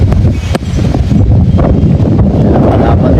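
Strong wind buffets the microphone at an indoor fly pen on a big farm in the Philippines, a steady roaring rush with gusty swells and a faint voice underneath.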